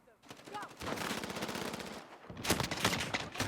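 Rapid SKS semi-automatic rifle fire in Call of Duty: Modern Warfare (2019), two sustained bursts of quick, loud cracking shots split by a short pause, with faint talk underneath.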